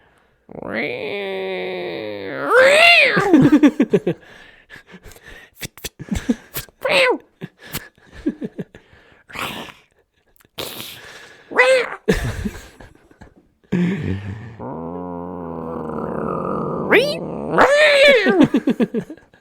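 A voice imitates two cats fighting at night, with drawn-out yowling caterwauls, growls and sharp spitting bursts that rise and fall over about twenty seconds, loud and close.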